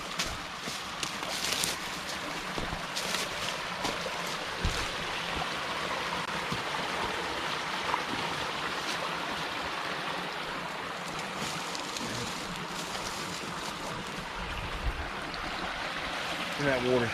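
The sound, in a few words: waterfall and flowing stream water in forest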